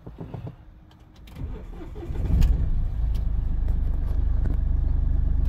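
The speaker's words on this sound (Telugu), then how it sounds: "ఒకసారి ఇంజన్ కూడా స్టార్ట్ చేస్తాను." A few clicks and clunks, then a 2016 Mahindra TUV300 SUV engine cranks and catches, settling into a steady, loud idle rumble close by.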